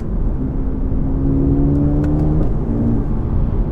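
A Mercedes-AMG A35 is heard from inside while driving, its engine humming steadily and then climbing in pitch as it accelerates, with a brief click or two and no talking.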